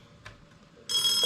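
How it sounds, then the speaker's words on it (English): A Panasonic KX-T1451 cassette tape answering machine starts ringing, a bright electronic bell trill that cuts in abruptly and continues loud and close after a faint click. "it's ringing."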